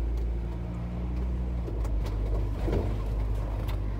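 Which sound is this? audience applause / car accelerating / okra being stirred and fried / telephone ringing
car accelerating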